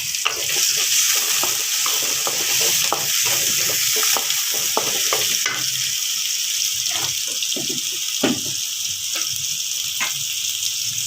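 Onion and mustard seeds fry in hot oil for a tempering for a drumstick-leaf bassaru, giving a steady close sizzle scattered with sharp crackles and pops, with no talking.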